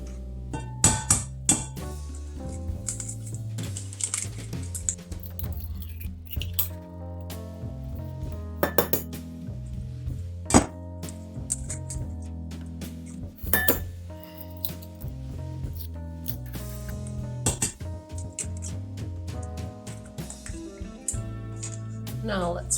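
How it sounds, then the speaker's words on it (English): Eggs being whisked in a large bowl for a ground turkey quiche pie filling, with steady clinks of utensil on the bowl and scraping strokes, under a speaking voice. "I've taken a large bowl and I'm going to start by whisking 4 eggs"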